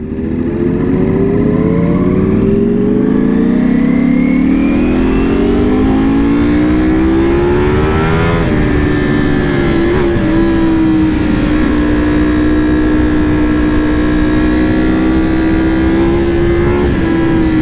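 A Ducati Panigale V4S fitted with an Akrapovic full exhaust system revs hard and loud, its pitch climbing over the first seconds, then holding at a steady high-rpm roar with small blips, with no voices.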